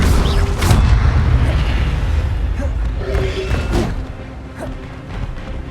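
An Incendio fire spell cast in Hogwarts Legacy, a loud booming burst with a whooshing rush and crashing impacts that fade out over several seconds.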